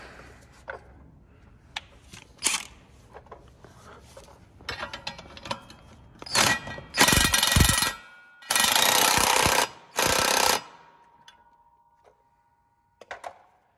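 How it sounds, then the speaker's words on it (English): A lock nut being tightened on a corn planter with tools, metallic clicks and scrapes followed by several loud bursts of rapid ratcheting or impact-wrench rattling, then a few final taps, close by, no talking. "Get the lock nut put back onto it."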